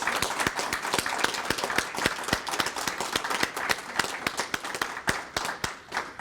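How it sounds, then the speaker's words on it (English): Audience applause for solid waste division employees at a spring workshop, a sustained patter of many hands with distinct sharp claps running through it, steady and moderately loud before tapering near the end. "I would like our employees to please stand and please get a round of applause."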